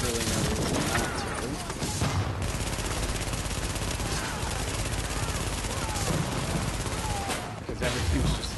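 Rapid bursts of SMG gunfire in The Division, loud and sustained across the clip, with layered shots and explosions from a busy firefight.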